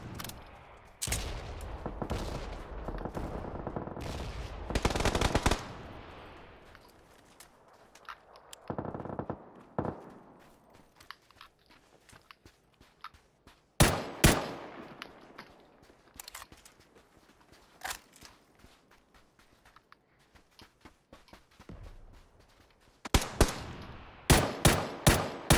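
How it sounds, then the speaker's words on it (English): Gunshots in PUBG, scattered sharp cracks and short bursts at varying distances, some loud and close, others faint and far, separated by quieter stretches. "Shots behind us."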